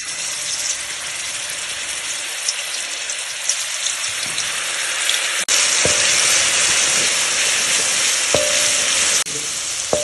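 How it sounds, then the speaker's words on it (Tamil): Ginger and garlic frying in hot oil for kothu give a loud, close, unbroken sizzle and crackle, with a few sharp utensil taps near the end and no speech. "எண்ணெயை ஊற்றிடுறேன் முதல்ல இஞ்சி பூண்டு"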